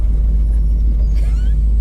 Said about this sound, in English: we've spent 10 minutes trying to park the truck